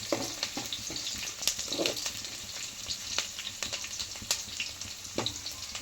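Chopped onions hit hot oil in a pan and fry with a steady, close crackling sizzle, sprinkled with sharp pops and faint stirring scrapes while cooking a fish curry.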